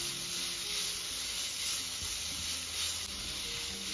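Chopped onion and small diced colored bell peppers sizzle and fry in a pan with a steady, loud, continuous hiss and no talking.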